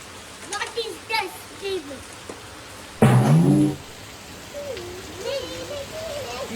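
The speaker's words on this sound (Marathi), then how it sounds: "इतका जोरात पाऊस येतोय" Steady hiss of heavy rain runs throughout during Diwali, with voices talking over it and a brief loud burst of sound in the middle.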